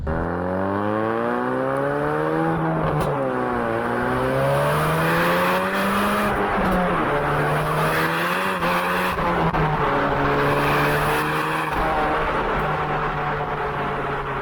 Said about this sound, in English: So I punch it down, I put it into second gear, I floor it out the corner